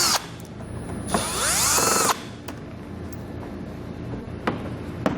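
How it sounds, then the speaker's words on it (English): A power driver whirs and whines as it backs Phillips head screws out of a bumper access panel on a 2016 Cadillac, one sustained burst followed by small clicks and taps nearby; no talking. "We'll do that by taking out these two Phillips head screws."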